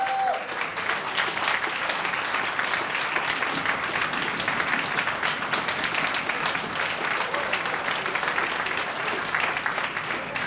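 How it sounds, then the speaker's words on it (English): At a cycling club awards night, a roomful of guests applauds steadily for a long stretch, a dense even wash of clapping with no pauses. "just give Dale a round of applause"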